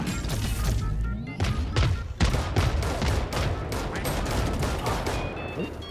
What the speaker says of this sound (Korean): 미사일 발사